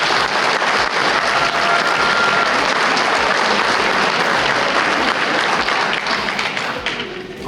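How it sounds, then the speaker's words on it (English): A crowd at a presentation of a high school state championship football team gives sustained, loud applause with dense clapping that fades slightly at the end. "Let's give these guys a hand."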